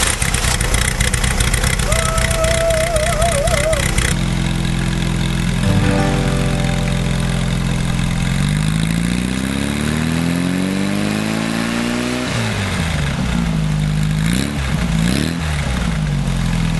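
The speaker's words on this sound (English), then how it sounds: "I'm gonna zoom in and start the engine" Volkswagen bus engine, repaired with a new condenser, cranking and catching, then running loudly with rising and falling revs and a rough, throaty idle, close up throughout.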